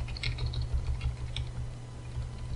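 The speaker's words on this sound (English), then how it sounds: "by pressing the arrow keys." Arrow keys on a computer keyboard tapped a few times, soft close clicks over a low steady hum, with no talking.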